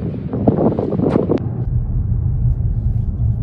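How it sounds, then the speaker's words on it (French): Steady, heavy wind buffeting the microphone as a low, continuous roar, with some faint indistinct sounds in the first second and a half. "il y a beaucoup de vent"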